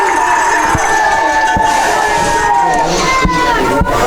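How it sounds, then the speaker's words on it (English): Spectators cheer and shout at a girls' sports game, a steady crowd roar heard from a distance under a commentator's voice, with occasional thumps and whistles breaking through. "Seemed to be some cheering on both sides."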